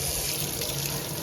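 A tap runs hot water in an apartment being remodeled, a steady close hissing stream of water pouring continuously without pause and with no voices.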